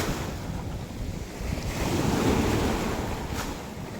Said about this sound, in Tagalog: Napalakas yung yung hampas ng tubig dito